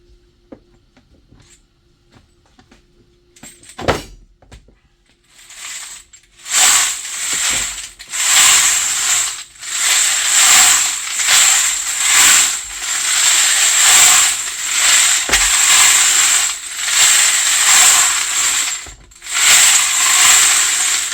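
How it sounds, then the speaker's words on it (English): A Frankford Arsenal Rotary Tumbler Lite spins wet brass cases, starting with a few clicks and knocks before a loud, gritty mechanical whir with rattling in repeated surges and short pauses, no voices over it. "So now at this point, I want to spin the extra water out."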